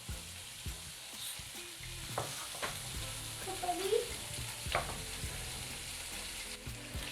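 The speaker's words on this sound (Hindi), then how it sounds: "अब हम इसको गोभी में फ्राई करेंगे तकरीबन 2 मिनट के लिए।" Cauliflower fries in a pan with crushed ginger for gobi biryani, a steady sizzle broken by scraping stirs and clinks of a spoon, close and continuous without talk.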